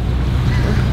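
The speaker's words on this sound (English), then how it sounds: "a little windy." Steady wind buffets a boat out on the Trent-Severn Waterway, a continuous low rushing roar close to the microphone with a faint hint of water, no talk.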